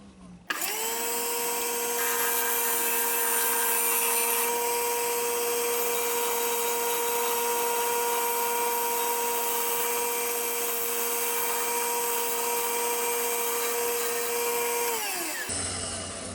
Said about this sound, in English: Very, very gentle scraping cuts, and it's giving it a lovely finish.